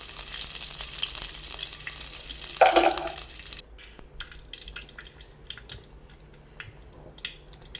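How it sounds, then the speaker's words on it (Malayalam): Mustard seeds are added to hot coconut oil in a pan for a quail egg curry, giving a loud burst of sizzling and popping that quickly settles into softer, sporadic crackles. "വെളിച്ചെണ്ണ ചൂടായ ശേഷം കടുകിട്ട് പൊട്ടിക്കുക"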